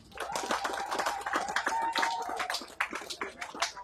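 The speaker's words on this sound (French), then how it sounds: "Applaudissements pour les femmes." Applause for women at a May Day Labour Day celebration, a dense patter of hand clapping with cheering voices and a sustained whistle-like tone mixed in.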